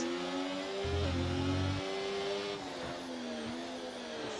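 F1 race cars in a racing video game whine along with a steady, tonal high-revving engine drone that shifts pitch as they brake and accelerate, continuous and fairly loud with no talk.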